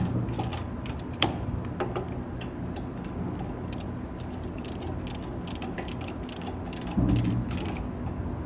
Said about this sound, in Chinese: 这时候呢，我们就可以上紧压块